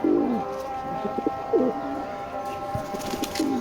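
A pair of pigeons of a prized colour breed coos up close, giving several soft, throaty rolling calls in quick succession with brief pauses between them, fairly loud and without talk.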